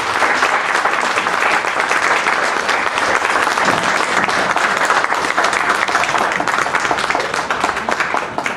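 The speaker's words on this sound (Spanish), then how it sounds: "quisiera que un aplauso para que reciban este pequeño detalle" A large audience applauds steadily and loudly throughout at a school science and humanities event, dense continuous clapping filling the room with no break.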